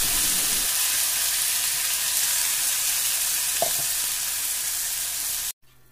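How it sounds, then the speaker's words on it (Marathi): Ground spice paste drops into hot oil already tempered with mustard and cumin seeds for a Khandesh-style sandge vegetable curry, giving a loud, steady close-up sizzle that hisses for several seconds before cutting off abruptly. "त्यामध्ये जे आपण वाटण केलेलं आहे ते मी घालत आहे"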